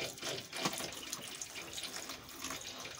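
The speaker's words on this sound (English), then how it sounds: "So I'm filling it up again with hot water" Hot water gushes steadily into a mini washing machine tub in a motorhome, a continuous splashing rush heard close up with no voices.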